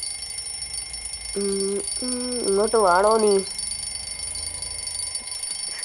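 An alarm clock in a video game rings after the in-game time is changed, a few bursts of bright electronic beeping and a warbling trill, while a voice speaks over it.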